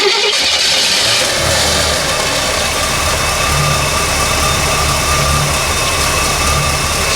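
An Oldsmobile 442 engine fires up and settles into a steady, loud idle, its low rumble continuous and close with no voices over it.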